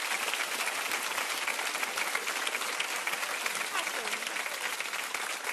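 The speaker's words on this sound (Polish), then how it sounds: "Wielkie brawa dla pana Gienka." A cabaret show audience bursts into dense, sustained applause, a loud continuous wash of many hands clapping, with voices mixed in.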